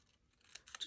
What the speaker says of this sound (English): I'm going to cut that white off the bottom.